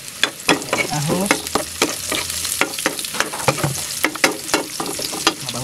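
Onion and garlic frying in a pan for chicken-neck adobo, a loud close sizzle with rapid scraping and clacking of a spatula stirring, busy and continuous with no voices.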